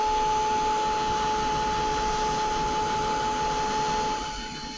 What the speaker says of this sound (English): I'm just going to give it a quick blast with the heat gun.